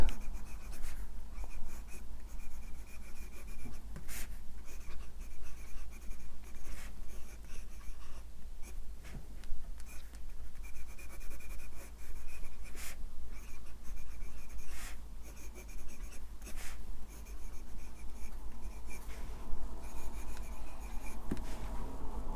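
Namisu Horizon fountain pen with a broad box nib writing on paper, a steady continuous scratch and rub of strokes with small taps, close and alone without talk.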